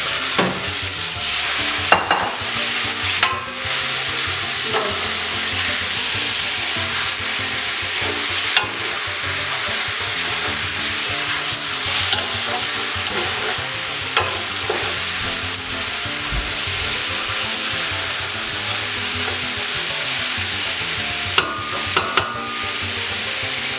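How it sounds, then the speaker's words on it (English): Pork meat frying with garlic in a pan for Brazilian pulled pork, a loud continuous sizzle with repeated scraping and clattering stirs, close up, with no talk. "So let's start adding our meat, because I don't want any burned garlic."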